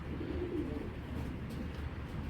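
A soft, low coo from a Giribaz tournament pigeon sounds briefly over a faint, steady background hum.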